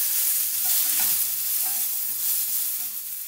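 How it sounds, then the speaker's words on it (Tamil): Garlic, ginger, tomato and green chilies sautéing in a pan for chana chutney, a constant close sizzle with soft scraping stirs throughout. "எல்லாத்தையும் போட்டு இதை கொஞ்சம் நம்ம வதக்கிக்கலாம்"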